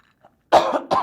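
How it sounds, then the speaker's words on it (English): Two close, sharp coughs in quick succession after a near-silent pause. "if we're coughing a lot, it's because it's so dry"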